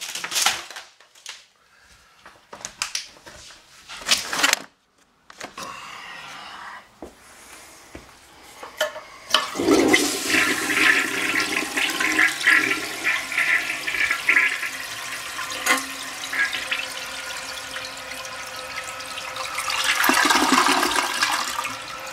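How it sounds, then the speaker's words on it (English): A toilet that won't flush properly is flushed with paper and turkey bones in the bowl, starting with scattered knocks and clunks, then a loud, steady rushing of water that carries on for over ten seconds. "We'll flush it with the paper."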